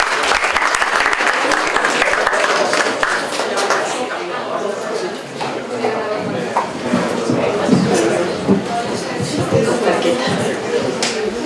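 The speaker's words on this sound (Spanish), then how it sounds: "Un aplauso, por favor." Sustained applause from a seated audience at a school health-week talk on contraception, dense steady clapping filling the room for over ten seconds, with a brief dip midway and murmuring voices mixed in.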